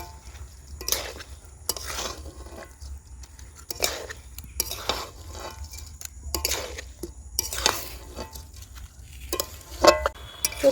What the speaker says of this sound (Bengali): চাল দিয়ে চিকেনের সঙ্গে খুব ভালোভাবে মিশিয়ে নেব